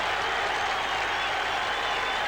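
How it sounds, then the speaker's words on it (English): A stadium crowd at Karaiskakis Stadium in Piraeus applauds and cheers Chelsea's lap of honour after the 1971 Cup Winners' Cup final replay against Real Madrid, a dense, continuous roar of clapping spread across the whole clip. "And the Greeks are cheering as loudly as indeed are the Londoners."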